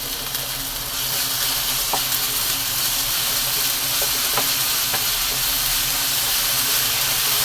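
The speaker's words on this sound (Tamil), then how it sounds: "இஞ்சி பூண்டை போட்டு பச்சை வடை போகிற அளவுக்கு நல்லா வதக்கிடுவோம்ப்பா" Ginger garlic paste sizzles loudly in hot oil in a pan while being sautéed, a dense continuous hiss broken by a few scraping stirs of the spoon.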